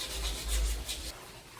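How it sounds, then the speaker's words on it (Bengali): Someone scrubs rust off a metal window grille with a few quick back-and-forth rasping strokes, close and fairly soft, then fades to quiet. "সুন্দর করে গ্রিল ঘষতে হবে জং যাতে না থাকে"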